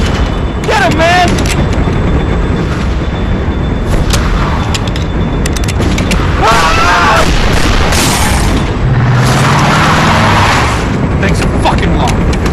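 Heavy gunfire booms and cracks again and again in a zombie-survival game, The Walking Dead: 400 Days, with sharp shots spread across the scene while voices shout urgently over the noise.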